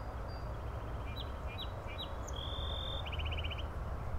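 A song sparrow calls back to a rival with short, thin chirps and a trilled phrase, heard faint and fairly distant over steady outdoor background noise.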